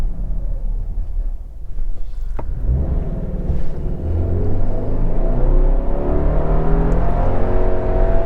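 A 2021 Subaru Crosstrek Sport with a CVT accelerating from low speed, its engine drone rising steadily into a loud, smooth, continuous whine heard from inside the cabin.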